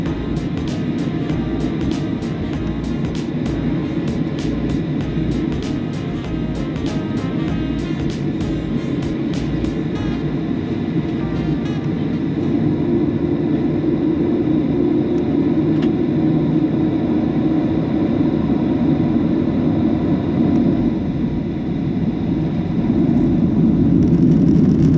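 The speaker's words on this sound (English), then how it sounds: "As the aircraft hurtled down the runway, the precipitation that had accumulated on the fuselage was blown off" A Sun Country airliner rolls down the runway for takeoff in precipitation, heard as a steady, loud engine roar that builds and thickens in the second half, with faint ticking early on.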